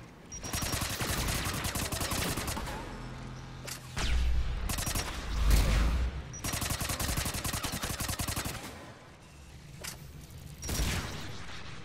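Rapid automatic weapon fire in the shooter game Mass Effect 3, dense bursts of loud gunshots with heavy booming impacts around the middle, continuous and close.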